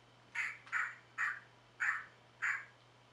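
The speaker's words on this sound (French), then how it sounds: "on a un petit bouton là aussi sur lequel appuyer pour faire aboyer le chien" A children's sound book plays a recorded dog bark when its button is pressed, five short, abstract, squawky electronic barks in an even rhythm, close and clear over a faint steady hum.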